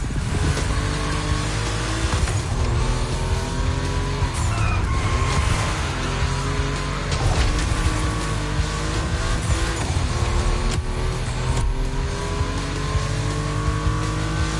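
Volkswagen cars racing on a track in The Crew Motorfest, engines droning and revving steadily with shifting pitch throughout, with occasional tire noise and no talk.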